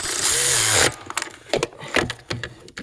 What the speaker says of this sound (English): I'm just using my Milwaukee ratchet